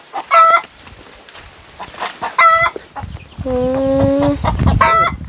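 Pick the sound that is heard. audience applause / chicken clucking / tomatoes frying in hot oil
chicken clucking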